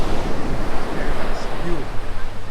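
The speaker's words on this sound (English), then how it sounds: "Waves not too bad." Ocean waves washing onto a beach at a roadside pull-off, a steady broadband rush of surf with wind buffeting the microphone, continuous and fairly loud throughout.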